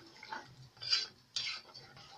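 A spoon stirs homemade chocolate sauce in a pot, giving faint, close scraping and clinking strokes against the metal in a few irregular passes, with no voices.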